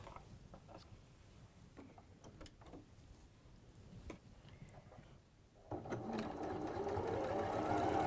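Sewing machine running a quarter-inch seam, starting suddenly after scattered soft clicks and handling noises, then a steady close whir that continues to the end.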